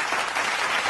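A brief burst of applause, dense clapping from many hands, heard close and fairly loud for under a second.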